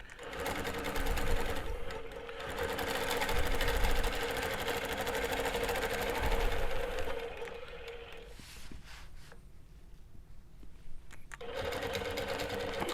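Longarm quilting machine stitching the outline of a quilt block, a steady close mechanical whir that runs continuously, pauses briefly, then resumes.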